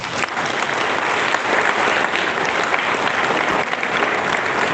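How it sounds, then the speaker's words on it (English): Sustained applause from a convention audience at a valedictory ceremony, dense and steady clapping filling the hall without a break. "Won't you feel you all deserve a big round of applause?"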